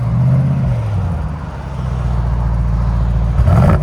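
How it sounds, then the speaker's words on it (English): A 2025 Mercedes GLE 63 S with a 4.0-litre bi-turbo V8 and straight pipes, rumbling loud and close with a deep, throaty exhaust drone that dips and then rises in a short rev at the end. "Rev it like this."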